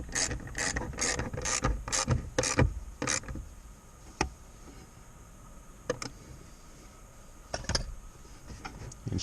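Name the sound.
tightening a bolt with a ratchet on a Jeep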